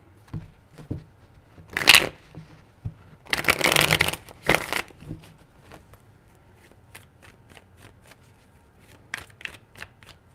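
Tarot cards are shuffled by hand in three distinct bursts of riffling, the middle one longest, followed by quieter card handling and taps in a close, quiet room with no talking.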